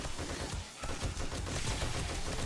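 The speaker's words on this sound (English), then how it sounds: "the machine guns are devastating" Machine gun fire in the video game 7 Days to Die: a dense, continuous stream of rapid, loud automatic shots with no pauses, heard alone without talk.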